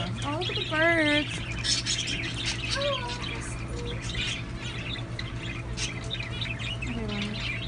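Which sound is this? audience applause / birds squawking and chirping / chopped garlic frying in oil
birds squawking and chirping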